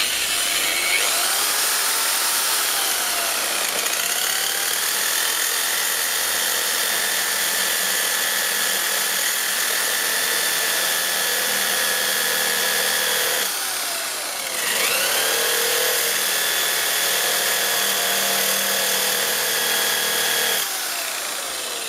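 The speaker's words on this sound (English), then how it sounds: "Fits into the drill." An electric drill fitted with an old-style cutter disc whines steadily at high speed during a Hyundai i20 front wheel bearing change, loud and close, with a short dip in speed midway and no talk.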